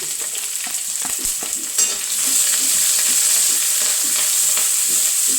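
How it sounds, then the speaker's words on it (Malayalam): Mustard seeds, onion, ginger, green chilli and curry leaves sizzling loudly in hot oil in a pan, a steady close frying hiss with stirring scrapes, the sizzle swelling after the ingredients drop in, no talk. "കടുകിട്ടിട്ടുണ്ട് ഇതാ സവോള ഇഞ്ചി പച്ചമുളക് കറിവേപ്പില കൊടുക്കാം"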